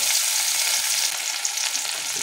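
Chopped onions fry in mustard oil, with kalonji seeds, in a kadai, giving a dense, steady hiss of sizzling oil, close and fairly loud, with no voices.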